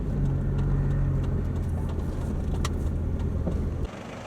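Suzuki Boulevard C50 motorcycle runs with a steady low engine rumble nearby, continuous and fairly loud, before cutting off abruptly near the end, with faint outdoor noise around it.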